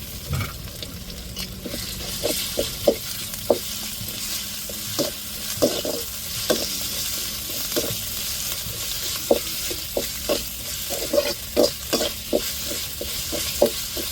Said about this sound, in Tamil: இஞ்சி பூண்டை அப்படியே வெங்காயத்தோடு சேர்த்து வதக்கி விட்ருவோம்